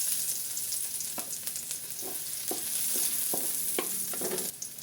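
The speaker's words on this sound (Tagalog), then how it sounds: "Ngayon po ay igisa na natin ang bawang." Garlic sautés in hot oil in a pan with a constant crackling sizzle, punctuated by repeated scraping strokes of a spatula being stirred.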